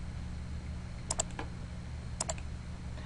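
Computer mouse clicks at a desk, two quick pairs of sharp, close clicks heard alone over a low steady hum.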